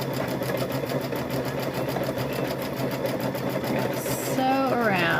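A sewing machine stitches a trick-or-treat bag with a rapid, steady mechanical whir and rhythmic needle tapping, close up, and a voice briefly joins near the end.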